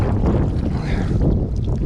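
Strong wind from a tropical storm roars on a fishing boat out on the water. The sound is a loud, close, unbroken buffeting rumble with no voices.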